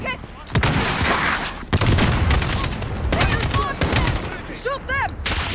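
Dense bursts of rapid automatic gunfire and explosions in the Call of Duty Modern Warfare video game, loud and continuous, with players' voices talking over the shooting.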